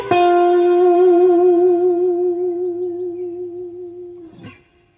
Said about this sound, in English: the neck in the middle, the out of phase quacky sound